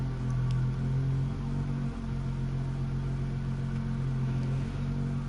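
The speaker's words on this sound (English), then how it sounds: "This engine sounds really good." A V6-swapped car engine in Need for Speed Heat hums loud and close with a steady droning rumble, revving slightly with brief dips, and no talk.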